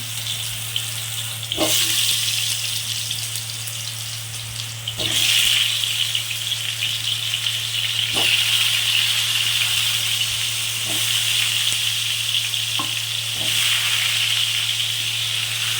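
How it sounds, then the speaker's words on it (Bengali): A steady sizzling hiss of food frying in hot oil, with occasional soft clinks and stirring knocks over a low electrical hum. "তেলটি গরম হয়ে গেছে এবার আলুগুলো আমি দিয়ে দিলাম"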